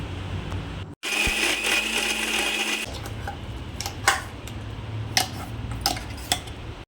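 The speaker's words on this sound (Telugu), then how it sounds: "మిక్సీలో వేసి మెత్తటి పేస్ట్ లాగా చేసుకోవాలి" An electric mixer grinder whirs loudly for about two seconds as it blends cooked citron chutney into a paste, then cuts off, followed by a few scattered clinks and taps of kitchenware.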